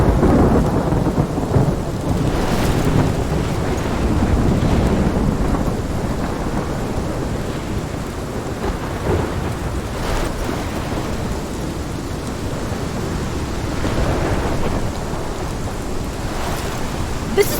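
Rain pours steadily through a thunderstorm in Life is Strange Remastered, with low rolling thunder booming and rumbling throughout; no voices.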